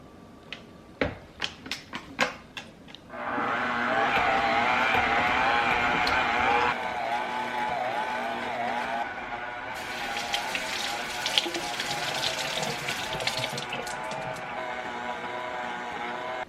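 A stand mixer kneads bread dough after a few sharp clicks, settling into a loud steady motor whir with rhythmic churning, then a brighter rattling hum later on, close by with no talking.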